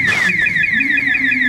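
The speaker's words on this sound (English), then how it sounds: "someone's set the alarm off on the club down there" A car alarm goes off at a club nearby, a loud, steady electronic wail with repeated sweeping pitch cycles.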